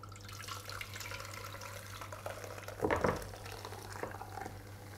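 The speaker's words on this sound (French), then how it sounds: "On va verser la préparation dedans." Crème caramel mixture pours into a dish lined with hardened, cooled caramel: a soft liquid trickle running steadily for several seconds, swelling briefly in the middle, with faint kitchen background and no talk.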